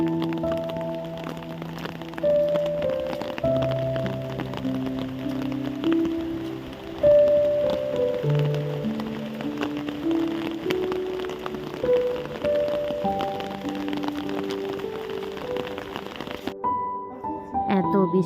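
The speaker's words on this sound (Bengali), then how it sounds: "আর বৃষ্টি হচ্ছে" Rain falls steadily over a village during a Sitala puja prasad offering, a constant patter beneath sustained melodic voices or music that carry on throughout before stopping abruptly near the end.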